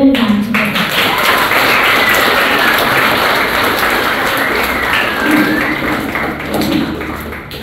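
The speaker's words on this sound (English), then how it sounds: "Now please give a round of applause to Mr. Reuben Vanterpool." An audience applauding at an honour ceremony for Mr. Reuben Vanterpool: a steady, loud wash of clapping that stays dense from start to finish, with faint murmur underneath.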